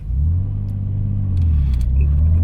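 A Nissan Skyline GT-R R33 V-Spec pulling away in first gear, a loud close engine rumble that holds steady and builds slightly toward the end, with no talking.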